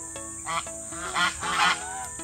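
Large white and brown geese honk nearby in a few nasal calls, one after another, over a steady background hum.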